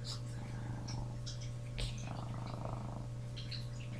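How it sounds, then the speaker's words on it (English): A cat purrs steadily and close up, a continuous low rumbling vibration with soft breathy texture throughout. "Doesn't she have such a beautiful purr?"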